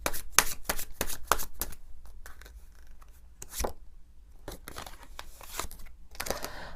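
Tarot cards are shuffled and drawn, giving a run of crisp, close riffles and snaps in quick clusters. There is a quieter stretch of soft sliding in the middle, then more flicks, with no speech.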